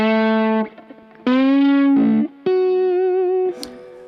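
A bass guitar played through distortion and effects sounds out alone as a few sustained, growling notes, each held for about a second with short gaps between them.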